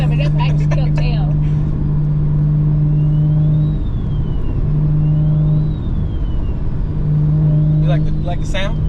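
A 600 hp single-turbo BMW 335i with the N54 engine drones steadily while driving, a low even hum that swells and settles with throttle, with voices talking over it throughout.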